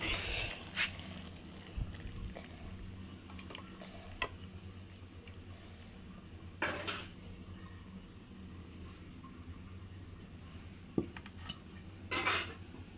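A pot of fish curry lifted off a kitchen stove, with scattered clinks and scrapes of metal cookware and utensils over a low background hum, including a few louder knocks.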